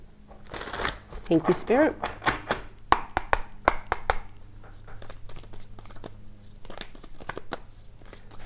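Tarot cards being shuffled by hand: a rapid riffle of crisp card flutters, then scattered slaps and shuffles of cards, close and clear, with someone speaking briefly over them.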